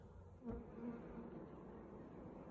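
Honey bees from a small rescued swarm buzz around a poly nuc in an apiary, a faint steady drone with one closer bee passing by briefly, quiet and continuous throughout.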